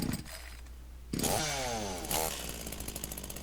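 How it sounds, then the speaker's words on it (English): A chainsaw is pulled to life: a short starter rasp, then the engine catches and revs loudly with a buzzing, wavering whine before settling into a steady idle, close and alone. "pulled the starter on the chainsaw"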